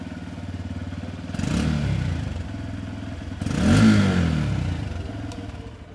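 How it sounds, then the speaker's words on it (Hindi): A 2025 Honda Hornet CB125 motorcycle idles with a steady chugging exhaust, then revs up twice in short bursts before settling back to idle. "अब स्टार्ट करके साउंड सुना देता हूँ कि इसकी एग्जॉस्ट नोट कैसी है"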